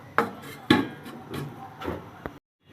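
A metal lid set on a pot of crab curry gives a few sharp clanks and knocks spread over about two seconds, close and moderately loud, ending in silence.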